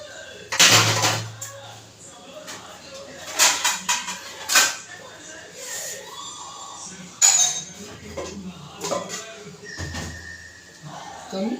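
A lid being set onto a cooking pot while cabbage vadi steams in a home kitchen, with several metallic clinks and clanks spaced out among other dish and utensil handling noises.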